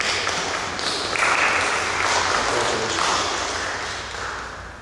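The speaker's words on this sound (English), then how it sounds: "I think that we should give him a round of applause." Applause from a church congregation during a Sunday service, a fairly loud, diffuse spread of clapping in a reverberant hall that swells and then slowly tapers off toward the end.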